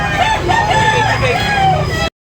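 A rooster crows at a busy chicken market, its call rising and falling over a steady crowd murmur and a low hum of nearby vehicles, continuous and fairly loud before cutting off.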